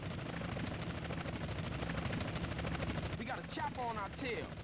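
A helicopter's rotor thumps steadily throughout in the video game GTA San Andreas, with a whooshing, sweeping sound rising over it near the end.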